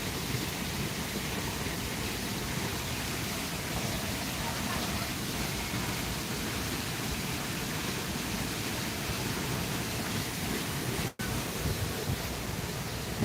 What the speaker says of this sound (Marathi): पाण्याचा आवाज येत आहे